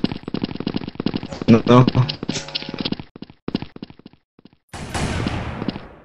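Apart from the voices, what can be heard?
gunshots in a video game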